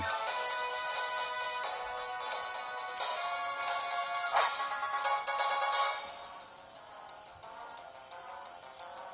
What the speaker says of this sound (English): And I do apologize if you hear that music in the background.